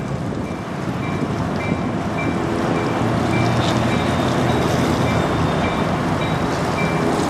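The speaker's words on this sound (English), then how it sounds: "comes the train" Lake State Railway freight train led by locomotive LSR 1501 rumbles past in Michigan, a steady loud rolling roar with faint wheel squeal tones, continuous throughout with no talking.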